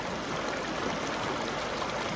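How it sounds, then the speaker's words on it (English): A creek runs steadily after sluicing for gold has stopped, a continuous broadband rush of flowing water, fairly close and even, with no voices. "Clean that up so the water's running again."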